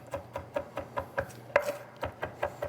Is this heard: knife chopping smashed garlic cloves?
yes